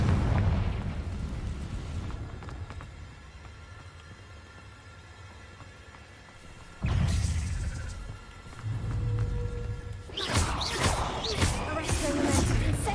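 Confringo explosion spells cast in Hogwarts Legacy erupt in loud booming bursts with crackling debris, stacking up late in the clip over steady game noise and combat effects.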